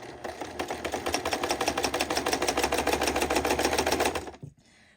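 A sewing machine with a walking foot stitching down gathered fabric for an off-shoulder romper, a fast, even, close rattle of needle strokes that runs steadily for about four seconds and then stops.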